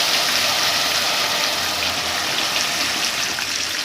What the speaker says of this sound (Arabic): هتحطيها تضيفيها على البصله وتسيبيها لغايه ما تغلي